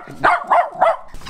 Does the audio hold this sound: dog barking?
yes